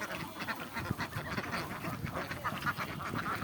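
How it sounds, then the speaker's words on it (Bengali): A flock of farm ducks eating spinach bundles, with busy close-up dabbling, pecking and soft quacking that runs steadily throughout. "তো হাঁসগুলো খুব যত্ন সহকারে খায়।"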